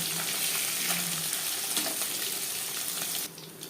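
Steady, loud sizzling of small puti fish frying in hot oil in a kadai, a continuous crackling hiss that drops a little near the end.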